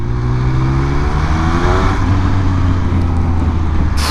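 Triumph Speed Triple 1200 RS motorcycle engine running loud and steady with a deep harmonic drone, rising slightly in pitch as it revs, close by with no talking.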